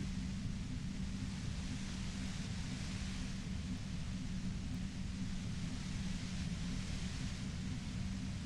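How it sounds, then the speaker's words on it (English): Static white noise from the video game Disco Elysium, a faint, even, continuous hiss with a low rumbling layer underneath, steady for the whole stretch with no voices. "You hear through the white noise. It's especially bad suddenly."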